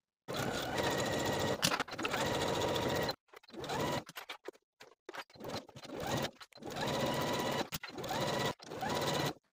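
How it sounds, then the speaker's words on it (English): A sewing machine runs in rapid, buzzing stitching bursts, pausing briefly a few times before starting up again, close and clear. "Take it to your sewing machine and sew all the way around with a 5/8 inch seam allowance."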